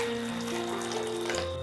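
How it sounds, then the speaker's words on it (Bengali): Hot tap water runs in a steady stream from a faucet over cauliflower in a kitchen sink, close and continuous with no talk. "এরপরে ফুলকপিটাকে আমি একটু গরম জল দিয়ে ধুয়ে নেব।"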